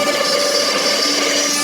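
A power tool cuts wood on a box joint jig, giving a loud, steady, dense whine with a sustained rasping tone throughout the brief stretch and no voices.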